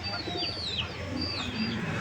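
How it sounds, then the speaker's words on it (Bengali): Pigeons coo softly in a coop in low, rolling murmurs, with a few thin chirps overhead and steady background rustle. "প্রতিটা ঘরে ঘরে কবুতর আছে"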